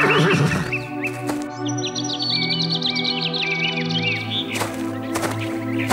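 A horse whinnies loudly in a long, wavering neigh, with birds chirping faintly in the background.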